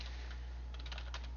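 Quick light typing on a computer keyboard, a short cluster of soft clicks over a steady low hum, with no voices.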